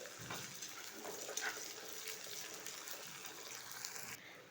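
Sliced onions frying in oil in an iron pan, a steady, quiet hiss and sizzle with faint crackling and stirring, heard close and alone.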